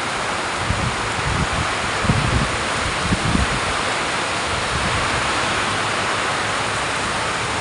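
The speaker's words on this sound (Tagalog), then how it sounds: "napakatindi ang lakas ng hangin no" Strong typhoon wind and driving rain from Typhoon Carina, a steady broadband roar with gusty low rumbles swelling around the middle, loud and continuous with no voices.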